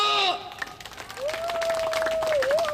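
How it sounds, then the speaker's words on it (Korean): Crowd clapping breaks out at an outdoor street rally in front of a Bangbae-dong apartment complex, a voice heard briefly at first, then steady mid-level applause with a thin sustained tone running through it. "박수 한번 주세요"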